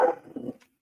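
A pet dog barks at an Old Navy commercial on the TV indoors, giving one loud close bark followed by a couple of softer, lower yips that fade out in under a second.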